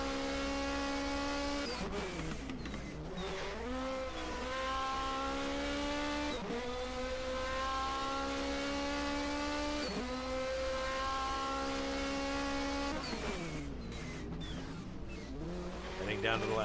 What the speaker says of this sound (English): You hear that tweet there? That's the turbocharger.